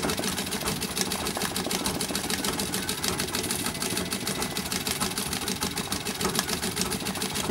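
A vintage treadle sewing machine runs a plain straight stitch for free-motion thread painting, a steady rapid clatter of the needle going on without pause at moderate volume.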